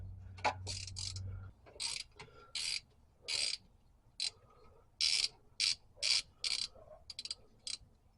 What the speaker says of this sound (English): we'll go back to a ratchet now, see if it'll do it